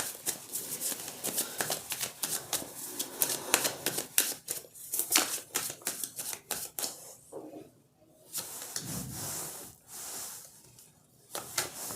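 A deck of tarot cards is shuffled by hand in quick riffling and sliding bursts, close and fairly loud, with short pauses between rounds.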